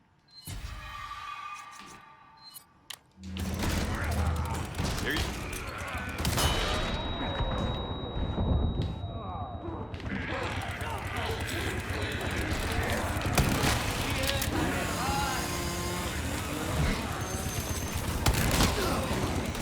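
Rapid bursts of gunfire ring out in the Resident Evil 4 (2023) remake, loud, close shots in quick volleys amid game action, with someone talking over parts of it.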